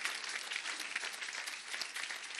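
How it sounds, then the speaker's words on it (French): A church congregation applauds during a sermon, giving a dense, steady burst of many hands clapping together at moderate distance, lasting a couple of seconds with no clear voices. "Si nous sommes d'accord avec cela, acclamons pour le Seigneur."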